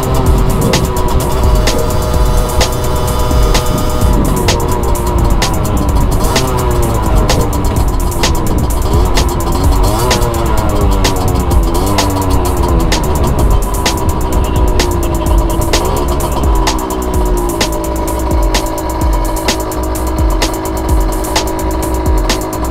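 Aprilia SX50 moped ridden through Tallinn with a Porsche following close behind: a loud, unbroken engine drone whose pitch climbs and falls with the throttle, mixed with steady wind and road noise and no talking.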